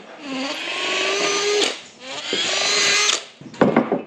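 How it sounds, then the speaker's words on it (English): A power drill whines through two sustained drilling runs with a pause between, then a short rough burst at the end, loud and close. "let's drill some holes"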